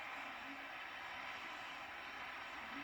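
A steady, faint airplane engine drone in the PUBG video game holds at an even level throughout, a smooth broadband hum with no talk.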